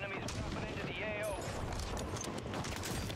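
Loud, continuous combat gunfire in a Rebirth Island video game, KAR98K rifle shots mixed into it, with clattering bursts and mechanical clicks; a voice speaks briefly over the din.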